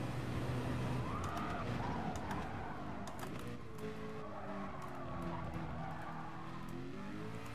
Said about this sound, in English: It's a car! I can see a car!